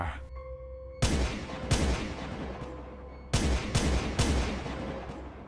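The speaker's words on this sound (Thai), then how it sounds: "มันได้หยิบ ปืนขึ้นมา แล้วก็สาด กระสุนไปทั่ว" Loud bursts of gunfire crack out in two clusters, shots sprayed in quick succession with booming echoes, after a brief lull of faint tonal background.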